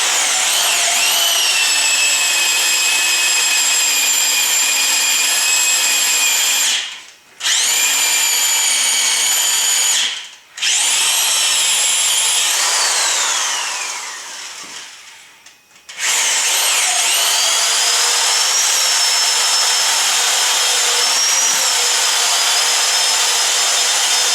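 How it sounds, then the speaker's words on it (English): A power drill grinds loudly into a still-moist wooden log for a Swedish torch in long continuous bursts, broken by brief pauses and a winding-down whine before resuming. "I'm going to have to run this drill bit right up into the chuck of the drill to hit the hole."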